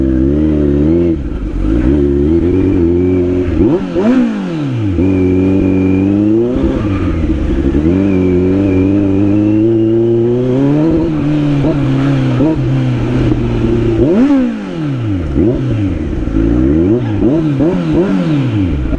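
A vehicle engine is revved hard again and again, its pitch surging up and falling back in repeated loud, close bursts with no pauses between them.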